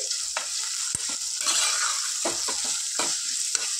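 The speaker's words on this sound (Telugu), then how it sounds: "వీటిని ఒక 2-3 minutes ఆనియన్స్ని చక్కగా ఫ్రై చేసుకుందాం" Onions frying in salted oil in a pan for a tomato and egg curry, with steady sizzling and several scraping strokes of a spoon stirring them, close and continuous.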